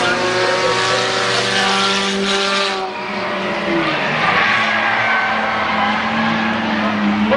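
Race cars roar around a dirt speedway at a night demolition-style event, engines loud and continuous with a brief dip midway, one car spinning another out on the back straight while an announcer talks over the noise.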